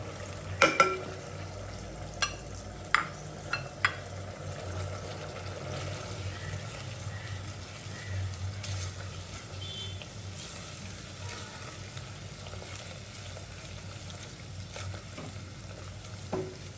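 Spice paste fries and is stirred in a pan, with a quiet low sizzle and a few sharp utensil clinks and taps early on, no talking.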